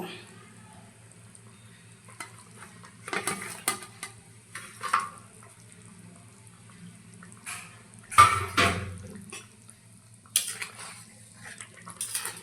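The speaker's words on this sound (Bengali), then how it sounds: "ঝোল ভালো করে ফুটে গেছে আমি এখন ভেজে রাখা মাছগুলো দিয়ে দিব" Fried koi fish go into a boiling peanut-paste gravy in a home kitchen, with sparse clinks of a utensil against the pot, soft splashes and a low bubbling simmer between quiet gaps.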